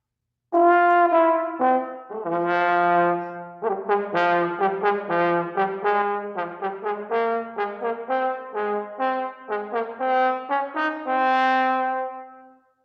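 A solo trombone plays a slow, legato melodic line, sustained notes flowing one into the next without accompaniment.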